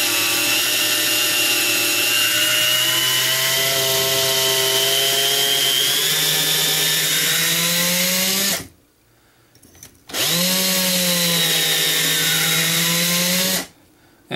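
A power drill spins an M14 gas piston for cleaning, its loud steady whine holding under load for about eight seconds, cutting out briefly, then starting again for a second sustained run before stopping.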